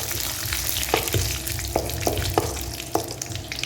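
Curry leaves and spices frying in hot oil in a kadai for kadai chicken, crackling and splattering loudly up close with a steady sizzle and several sharp pops and spatula scrapes.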